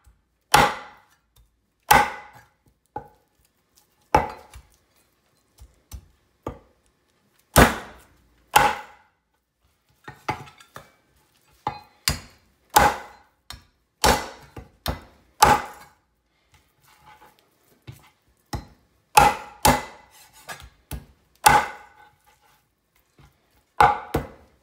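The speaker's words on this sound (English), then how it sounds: "I finished chopping the ribs." Baby back ribs are chopped into pieces with sharp, loud thwacks on a board, coming in irregular single strikes and quick bursts with pauses between, no talk.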